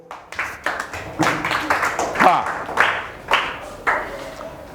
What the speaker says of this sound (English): Clap hands for